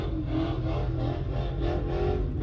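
A car with a 5.0 V8 revs hard as it passes nearby, a loud, throaty engine roar with a rough, pulsing burble that stays strong for the whole moment.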